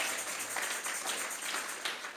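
A church congregation at a Sunday service breaks into applause, a soft, fairly distant patter of many hands clapping in quick uneven bursts across about two seconds, with no voices rising over it.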